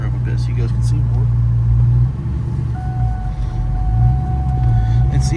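A green Ford Mustang Bullitt drives along with a loud, steady engine drone and road rumble close by, the pitch shifting slightly as it cruises, while someone talks.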